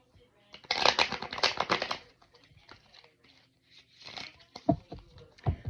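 Tarot cards are shuffled by hand in quick riffling bursts, a crisp papery flutter up close, followed by softer taps and shuffles of the deck in a quiet room.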